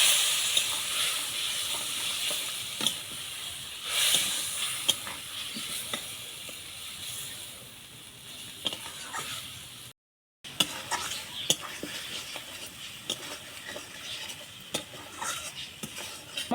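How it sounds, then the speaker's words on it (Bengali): A spice paste fries in a pan for a fish curry, a continuous close hiss and sizzle broken by repeated scrapes and clinks of a spatula as it is stirred, with one brief silent gap. "মশলা ভাজা ভাজা হয়ে গেছে,"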